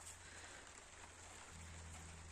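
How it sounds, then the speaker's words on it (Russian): Light rain falls steadily outdoors on an overcast, misty day near a vegetable garden, a soft continuous hiss with a low steady hum underneath and no talking. "Дождик сеет."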